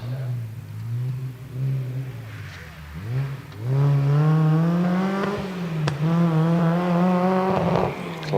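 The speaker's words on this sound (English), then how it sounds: "Classic sound of that Super Impreza engine." Subaru Impreza rally car engine revving hard and climbing through the gears on a hillclimb at night, a loud sustained rising howl close by, with gear changes and a brief lift around the third second.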